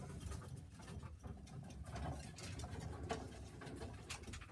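Pigeons in a loft, Sheffield tippler birds, giving low continuous cooing with rustling and faint patter in a busy, close, fairly quiet enclosed space, with no talking.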